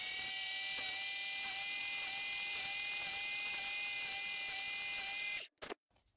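A small drill with a 1.5mm bit whines at a high, steady pitch while boring holes through a slot car gear, close and continuous, then cuts out abruptly with a brief clatter at the end.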